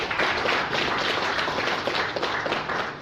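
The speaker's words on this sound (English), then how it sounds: "And a big round of applause for Maria as well." Audience applause at a fitness expo event in a hotel, a dense, steady wash of clapping from many hands that holds at an even level throughout, with no voices standing out.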